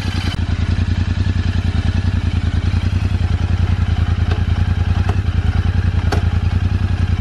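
A Royal Enfield Interceptor 650 motorcycle engine idles close by with a loud, steady, rhythmic thumping pulse and a little mechanical clatter, no voices present.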